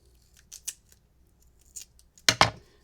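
Non-stick scissors with a wearing coating snip through paper while making card crafts: a few light, quick snips, then a louder double cut near the end, close and alone.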